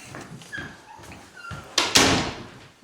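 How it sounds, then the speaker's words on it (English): An indoor door is shut in a quiet room: soft shuffling and knocks build to a sharp close thud and latch click, heard up close with no one talking. "I'm going to go ahead and shut my door."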